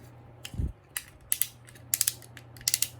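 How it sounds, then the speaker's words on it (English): The ratchet joint of a Good Smile Company Gigan figure clicks in short bursts as it is worked back and forth, crisp plastic ticks coming in small clusters close to the mic, with no talk. "Nice ratchet, move back and forth."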